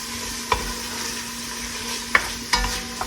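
Diced tomatoes and vegetables for jambalaya sizzle softly in a pan over medium-low heat, with a steady low crackle broken by a few sharp scrapes and clinks of stirring.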